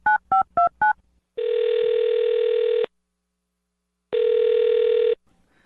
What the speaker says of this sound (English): I'll dial his phone number, get him on the phone